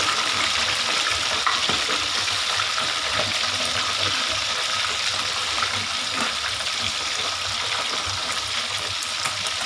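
Fish deep-frying in hot oil gives a loud, dense, steady sizzle that runs unbroken throughout, close up, with no voices.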